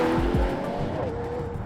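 Ferrari 12 Cilindri Spider with a 6.5-litre naturally aspirated V12, heard as a passing drive with a sliding engine pitch and possible tyre noise, moderately loud and brief.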